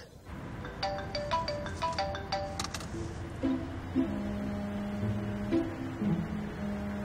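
A phone ringtone plays a bright, repeating electronic melody, then shifts to lower sustained tones over a steady background murmur.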